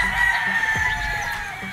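A gamecock crows at a stag chicken market, one loud drawn-out call close by, with faint clucking from other fowl around it.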